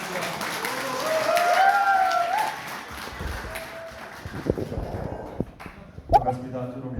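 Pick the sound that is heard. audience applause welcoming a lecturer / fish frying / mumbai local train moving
audience applause welcoming a lecturer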